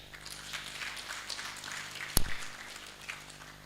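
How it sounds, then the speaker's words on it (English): Audience applause at a formal census monograph dissemination ceremony for orphans and vulnerable children, a steady wash of clapping from a seated crowd with one sharp loud bump midway. "Let's give them a big hand clap."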